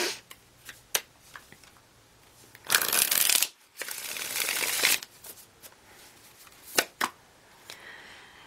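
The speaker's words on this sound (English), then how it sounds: "One more shuffle." Tarot cards are shuffled nearby, with two fuller riffling bursts of about a second each in the middle and scattered single card taps and flicks before and after, in an otherwise quiet room.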